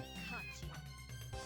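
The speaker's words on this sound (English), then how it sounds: "I hear the cat's cries somewhere" A cat meows in the video game Castlevania: Order of Ecclesia, two or three short, clear, plaintive cries in quick succession, fairly quiet.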